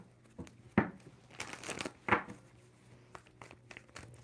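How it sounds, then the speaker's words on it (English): A deck of tarot cards is shuffled by hand, giving close, crisp papery bursts and riffles with a couple of sharper snaps between softer rustling. "2 more shuffles for Libra."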